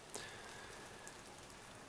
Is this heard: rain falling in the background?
yes